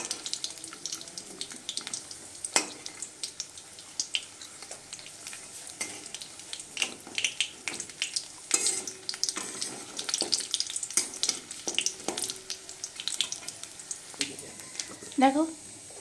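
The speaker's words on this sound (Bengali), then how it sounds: "কড়াইয়ে সাদা তেল দিয়ে বড়িটাকে ভেজে নিচ্ছি প্রথমে আমি" Lentil dumplings (bori) fry in white oil in a wok, a steady crackling sizzle with scattered sharp clicks and clatters of stirring and utensil contact throughout, fairly close and moderately loud.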